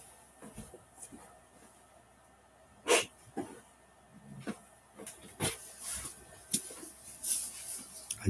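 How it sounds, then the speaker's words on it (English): A person hisses sharply at a pet dog in a quiet room, one loud breathy burst followed by several shorter hissing and huffing sounds scattered over low background noise. "I just hissed at her, was what that noise was."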